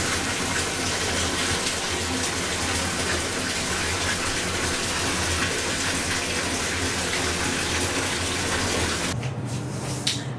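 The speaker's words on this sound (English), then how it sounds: "So I'm gonna go take a bath in here right now." A bathtub fills from the tap in a steady, close, rushing gush of water that holds even for about nine seconds before cutting off, leaving only faint room noise.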